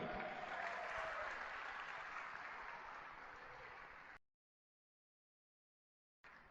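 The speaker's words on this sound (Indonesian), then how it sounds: "makanya berikan aplaus buat upline-upline Anda Bapak Ibu" A seminar audience claps in a sustained, dense burst of applause that fades slightly and then stops abruptly, followed by silence.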